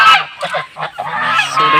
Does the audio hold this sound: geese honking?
yes